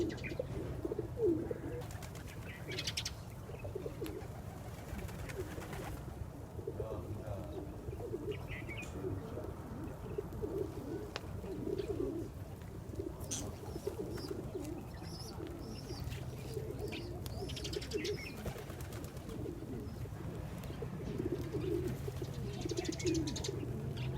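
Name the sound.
pigeons cooing and flapping while eating grain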